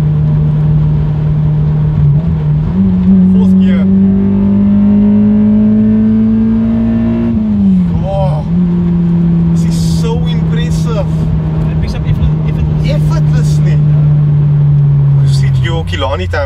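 A Honda Accord, an all-motor drag build, holds a steady engine drone in fourth gear, its pitch climbing slowly, dipping briefly and then easing down; the loud, continuous hum plays under people talking.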